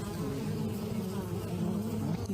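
Bees buzz in a dense, steady drone close by, a continuous low hum that holds without breaks and has no voices over it.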